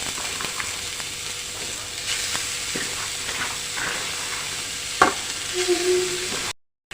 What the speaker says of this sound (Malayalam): നമുക്കിനി അരിഞ്ഞു വെച്ചേക്കുന്ന ക്യാബേജ് ചേർത്ത് കൊടുക്കാം